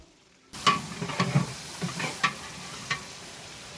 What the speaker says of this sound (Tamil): இந்த மாதிரி வதங்குற சமயத்தில் நம்ம கிட்ட இருந்து துடுப்பு வச்சு கரெக்டாக கிண்டி விட்டு அடிப்பிடிக்காமல் பார்த்துக்கணும்